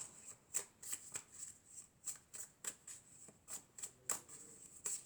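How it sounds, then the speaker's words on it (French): Tarot cards being shuffled and drawn, a run of crisp riffling snaps in a steady rhythm, close and quiet, with no voice over them. "je vais tirer encore quelques cartes pour voir s'il y a encore d'autres choses"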